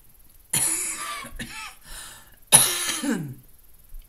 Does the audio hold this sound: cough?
yes